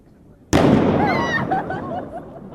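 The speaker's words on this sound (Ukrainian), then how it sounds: "Вибухівку переміщають на безпечну відстань і ліквідовують." A suitcase packed with TNT is detonated in a controlled blast during an emergency drill: one sudden loud bang followed by a long rumbling, crackling decay with scattered debris and whistling tails fading over two seconds.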